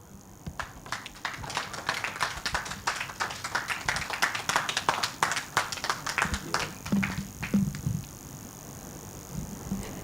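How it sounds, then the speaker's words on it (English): Scattered audience clapping after an inspirational speech to award-winning coaches, a moderate patter of claps that swells and then thins out toward the end, with faint background murmur. "Keep the applause going"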